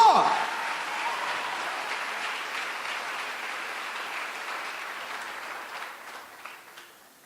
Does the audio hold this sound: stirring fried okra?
no